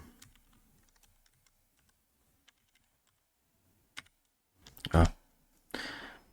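Computer keyboard clatters with scattered faint key taps, then a few louder clicks and a heavy thump near the end, no talking.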